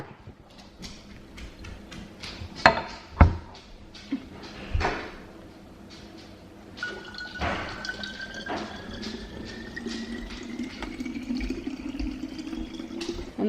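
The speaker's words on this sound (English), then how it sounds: "And then I just top it off with water." Water pours into a plastic spray bottle during spring cleaning, a steady rising fill tone after a few drips and clunks, close and moderately loud with no talk.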